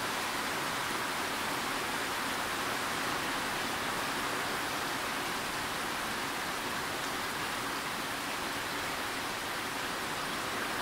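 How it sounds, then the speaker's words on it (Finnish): Steady, dense rain falling outdoors in Päijät-Häme, Finland, a continuous loud broadband hiss that holds evenly for the whole stretch with no voices. "Päijät-Hämeessä sataa ja aukeaa olan takaa."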